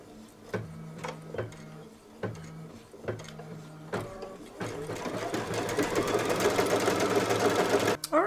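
An embroidery machine tacks down batting on an oven mitt potholder with rapid, steady, close-up stitching that begins in short bursts and then becomes a dense, continuous whir.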